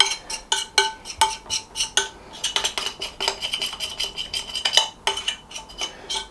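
A metal spoon scrapes and taps rapidly around a mixing bowl, working out sticky hot cross bun dough in a quick, uneven run of close, bright clinks with no voices.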